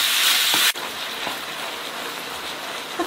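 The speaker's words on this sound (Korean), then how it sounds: "고기 볶으면서 설탕 1분의 1 살짝 뿌려서 같이 볶으세요" Pork stir-frying in a pan with pepper and sugar, a bright, steady sizzle up close, briefly louder at the start and then settling into an even crackle with light scrapes of stirring.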